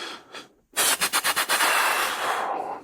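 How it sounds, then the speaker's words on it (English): Rapid burst of gunshots recorded on a police body camera, about five sharp loud cracks in quick succession followed by lingering echo and noise, with no talk. "Shots fired. Shots fired."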